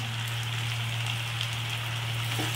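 Capsicum and green chillies stir-fry in a pan of hot oil for chowmein, a dense, steady sizzle and crackle running close throughout, with a low steady hum underneath.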